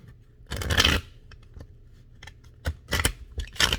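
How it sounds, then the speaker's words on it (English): Tarot cards shuffled by hand in quick riffling bursts, one long burst early on and then several shorter ones separated by brief pauses, close and crisp. "The cards are not wanting to shuffle."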